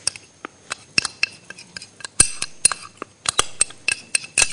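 Spoonfuls of cornstarch added to a cream mixture, with a metal spoon repeatedly clinking and tapping against a bowl in quick, sharp, close strikes with no talking.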